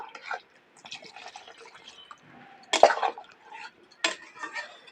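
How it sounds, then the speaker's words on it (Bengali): Water is poured into a hilsa fish curry with uneven splashes and drips, plus a few sharper clinks of pot and utensil against quiet moments. "এবার এর মধ্যে জল দিয়ে দেবো যেহেতু ইলিশ মাছের পাতলা ঝোল করবো তাই জলটা একটু বেশি দেবো"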